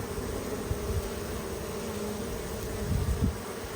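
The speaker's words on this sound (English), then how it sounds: "The bees are stinging the ant now." Honeybees mobbing and stinging an ant give a low, continuous close buzzing hum with small fluctuations and a couple of brief louder swells near the end.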